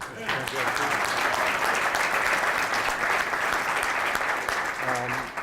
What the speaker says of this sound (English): So I'd like a round of applause for this guy.